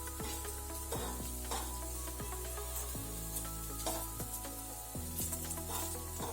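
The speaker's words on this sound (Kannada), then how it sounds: "ತವಾ ಫ್ರೈ ನಾವೀಗೆ ಮಾಡೋದು" Buthai fish fries on a tawa griddle with a steady oily sizzle, punctuated by periodic low thuds and scrapes as the pieces are turned, fairly faint and with no voices.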